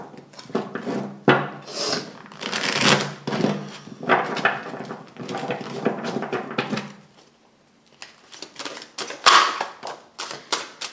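Tarot cards laid out fifteen at once land in a quick, uneven run of soft slaps and dry clicks on a hard surface, with a short pause before another close flurry.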